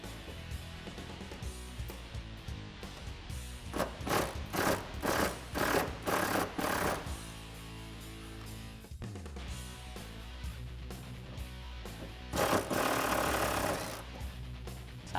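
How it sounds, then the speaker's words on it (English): Nuts come off a Jeep Wrangler JK e-brake bracket with a 10mm deep socket on a tool. Two stretches of rapid, rattling pulses are heard up close, separated by a quieter, steady stretch of noise. "I'm going to use a 10mm deep socket to remove both of those nuts"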